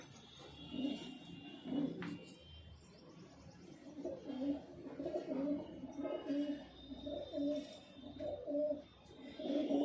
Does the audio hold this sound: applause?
no